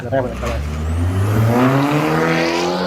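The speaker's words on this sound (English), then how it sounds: "I think you can hear the sound of the exhaust, the downcat" A car's exhaust with a downpipe revving, its engine note rising and holding in a steady drone under a person talking close by.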